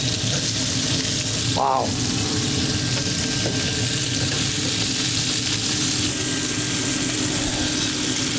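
Burgers sizzle steadily on a griddle-top accessory set on a smoker, a constant dense frying hiss with a brief scrape as patties are flipped and a short spoken exclamation over it.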